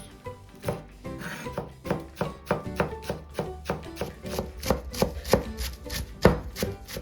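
A knife chops parsley on a board in a steady, rapid rhythm, close and clear, with no talking.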